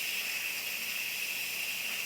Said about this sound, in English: very carefully pull the release lever and let the steam escape